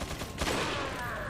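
Gunfire from an enemy in the video game Resident Evil 4, a quick burst of overlapping shots at moderate level, alone without talk.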